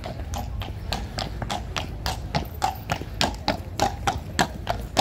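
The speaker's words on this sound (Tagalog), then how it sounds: "May kabayo." Horse hooves clip-clop on pavement in Greenwich, London, a steady, close, fairly loud trotting rhythm of sharp knocks that runs throughout with street ambience behind.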